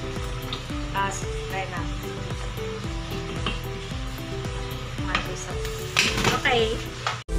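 Spoon stirring sinigang spare ribs in a metal cooking pot, with a regular rhythm of scraping strokes and a soft bubbling simmer underneath, ending in a few louder clanks, close and moderately loud, with no talking.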